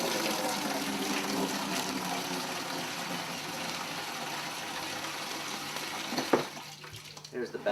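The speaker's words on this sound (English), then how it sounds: "Right now we're adding some hot water." Hot water gushes steadily from a tap into a container for several seconds during winemaking, a continuous rushing splash that tapers off near the end with a few clunks.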